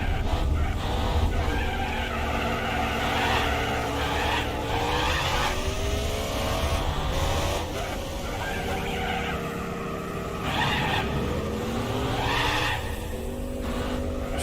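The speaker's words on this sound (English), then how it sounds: "So this car is actually wheel spinning on first gear" A race car in Gran Turismo 4 spins its wheels in first gear, with tires squealing and the engine revving loud and steady for the whole stretch.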